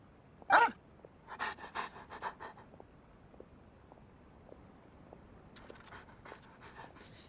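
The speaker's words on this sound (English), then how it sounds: "What a well-behaved doggy." A dog in the video game Genshin Impact pants quietly in quick breathy puffs, with a sharp yelp at the start and a low, faint background hum.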